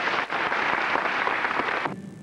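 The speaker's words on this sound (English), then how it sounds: "How about a nice round of applause?" Audience applause at a 1997 school event with a magic show and spelling bee, a dense, steady wash of many hands clapping together that fades out abruptly near the end.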